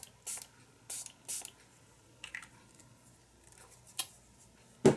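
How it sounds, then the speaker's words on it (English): A spray bottle misting lightly over paper tags for a junk journal, several short hissing bursts in an uneven series, close and fairly faint, with a louder final spritz at the end. "Now I'm going to make sure that this spray is a lot lighter."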